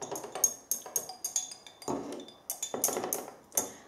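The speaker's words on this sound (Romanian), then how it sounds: "O să dau oala deoparte ca să nu mă opăresc." A cooking pot clanks and scrapes as it is moved aside and set down, with a run of metallic clinks and knocks, close and fairly crisp.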